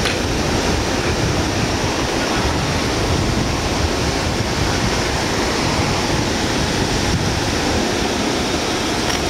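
Continuous roar of surf with waves breaking steadily on a beach at Sendai New Port, Japan, loud and close, broadband wash with no voices.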